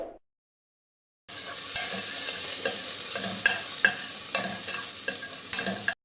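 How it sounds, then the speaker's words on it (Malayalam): Chopped garlic and ginger sizzle in coconut oil in a cooker while being stirred, a steady close frying hiss with scraping stir strokes that starts after a brief silence. "അത് നമുക്കൊന്ന് ഇളക്കി കൊടുക്കാം."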